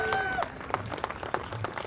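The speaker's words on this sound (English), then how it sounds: "keep it going for Mimi Planas" Crowd at an outdoor eminent domain protest breaking into applause, a burst of clapping with scattered cheers, fairly near and sustained for a couple of seconds.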